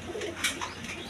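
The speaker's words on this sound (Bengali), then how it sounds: "বন্ধুগণ এইখানে এক পেয়ার কবুতর আছে" A pair of pet pigeons, beauty versus exhibition type, gives a brief soft coo close by with no other sounds.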